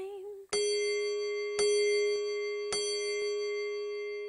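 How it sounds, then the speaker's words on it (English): Three bright chimes ring out at even intervals, each one sustaining and slowly fading, after a brief tone at the start. "Can you count the chimes and help me tell the time?"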